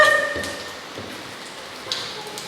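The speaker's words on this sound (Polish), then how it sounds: "tak leje, że już nigdy tak nie, nigdy tak nie lało" Heavy rain pours during an evening thunderstorm, a dense, steady wash of noise with a few louder splashes and no voices.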